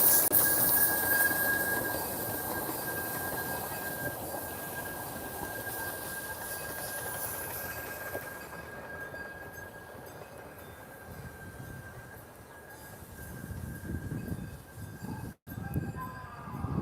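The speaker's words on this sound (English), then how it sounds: "That is a tram for those who cannot walk well, Rocky." A zoo tram train rolls past for visitors who cannot walk well, a steady rumble with a thin squeal of wheels, close at first and then fading as it moves on.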